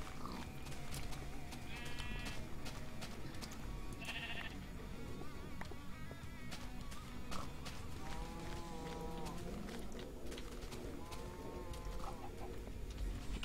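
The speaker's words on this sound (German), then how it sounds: "Da vorne im Turm ist ein Schaf." A sheep in the Minecraft video game bleats several times at intervals, moderately close, over a steady background of game ambience and other faint animal noises.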